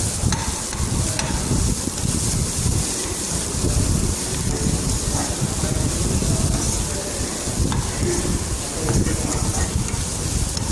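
Onions and tempering spices fry in oil in a pan until golden, making a loud, steady sizzle with rough stirring scrapes and no break throughout, and no voice is heard.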